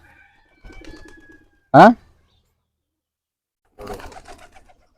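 A pigeon gives a single short, loud coo close by during a quiet moment, with a person briefly speaking before and after it.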